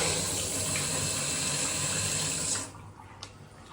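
Water gushes steadily from a newly fitted mixer bath tap with a shower attachment, a loud continuous rush that cuts off abruptly near the end, leaving a faint drip-like tap.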